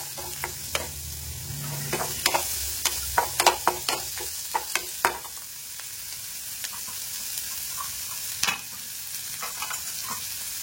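Finely chopped small onions (shallots) and large onions fry in a pan for a chutney. A steady sizzle runs under repeated sharp scraping taps as they are stirred, with a brief busier burst near the middle and no talking.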